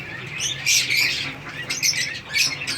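A parrot chick squawks repeatedly while being handled, loud, harsh, close-up calls coming in uneven bursts.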